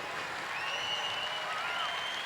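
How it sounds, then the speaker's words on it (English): A crowd applauds at an international woodchopping and sawing relay competition, a soft, even wash of distant clapping that stays steady through the brief moment. "we'll give a big round of applause."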